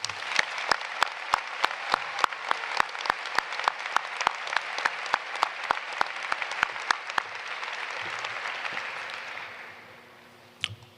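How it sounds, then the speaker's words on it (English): Audience applause for faculty and staff at a 2023 high school graduation ceremony, a broad wash of crowd clapping with sharp sparse claps near the mic, fading out toward the end with a final lone clap. "Please join me in applauding the hard work and dedication of our faculty and staff."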